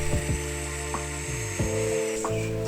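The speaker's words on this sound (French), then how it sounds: "on place le guide de la lamelleuse en face des repères et il n'y a plus qu'à percer" A biscuit joiner plunging its spinning blade into a wooden board to cut a slot, heard as a close mechanical whir with sharp repeated clicks and a brief motor surge, no talk.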